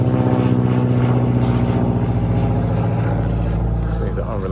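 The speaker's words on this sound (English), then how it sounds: "Another plane flying over." A propeller airplane passes overhead near a beach, producing a loud, sustained droning hum with a steady pulsing tone throughout.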